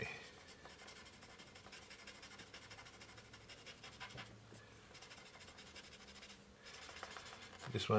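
Pencil strokes being blended and smoothed on a paper drawing give a faint, continuous soft scratching and rubbing, close up and quiet, with no clear voice over it.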